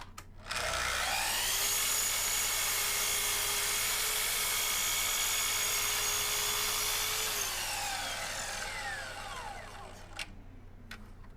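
A Festool Kapex miter saw makes a cut in wood: the motor whines up sharply, holds a loud, steady high-pitched run for several seconds, then winds down as the blade spins to a stop.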